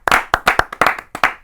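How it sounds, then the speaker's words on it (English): A small group claps for a winner, a brief round of close, sharp hand claps in an uneven rhythm. "Clap it up for him. Clap it up, Matt."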